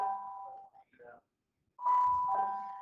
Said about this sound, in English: that's not your bell, friends.